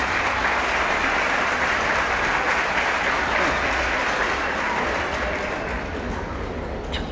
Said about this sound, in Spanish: aplausos primero